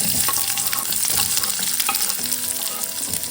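Mustard seeds crackle and splutter in hot oil, a continuous close sizzle dotted with sharp little pops and no talking.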